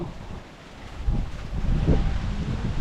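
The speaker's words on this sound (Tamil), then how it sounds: "நல்லா காற்று அடிக்குது பாருங்க" Strong wind buffets a village during Cyclone Fengal, a steady low rushing roar that swells in gusts and grows stronger toward the end, with no voices.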